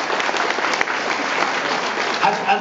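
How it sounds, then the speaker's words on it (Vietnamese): A crowd at a 2015 real estate investment seminar in Vietnam gives a speaker a round of applause, dense and loud, sustained evenly across the clip. "Một lần nữa xin cho ông một tràng pháo tay về Việt Nam."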